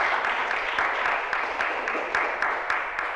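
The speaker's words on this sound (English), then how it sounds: "Let's give them a round of applause." An audience applauds the debate teams at a competition, with a steady wash of clapping and sharper individual claps scattered through it, heard at a moderate distance without speech.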